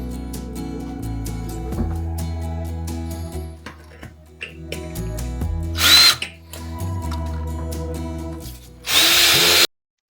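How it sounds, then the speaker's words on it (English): A power drill mounting ski bindings whirs in bursts, revving up and down with a grinding edge, loudest near the end before cutting off abruptly. "they do make special drill bits for mounting ski bindings."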